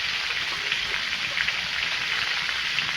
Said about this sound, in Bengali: তেলটা গরম হয়ে গেছে, দিয়ে দেব আলু সজনে ডাঁটা।